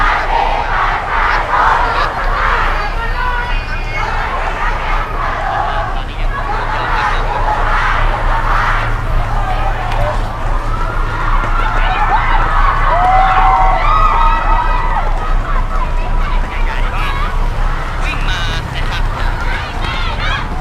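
A protest crowd shouts, chants and marches around a monument, a loud, dense wash of many voices with whistles and horn-like honks rising and falling throughout.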